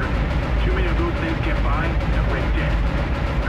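A gun turret in Dead Space fires at asteroids in a rapid, continuous barrage of heavy booming shots and rumble, with a person talking over the gunfire.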